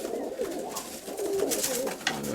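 Near, continuous cooing comes from homing pigeons gathered at a loft, several overlapping warbling calls swelling and fading across the moment, with no speech.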